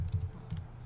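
A few quick keystrokes tap on a computer keyboard, quiet and close, in a short uneven burst.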